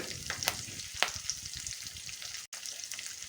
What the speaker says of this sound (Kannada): ಈರುಳ್ಳಿನ ಸ್ವಲ್ಪ ಹೊತ್ತು ಚೆನ್ನಾಗಿ ಹುರ್ಕೊಂಡು ಬೇಯಿಸ್ಕೊಂಡು ಆಮೇಲೆ ಬದನೆಕಾಯಿ ಹೋಳು ಹಾಕ್ಕೊಳ್ತೀನಿ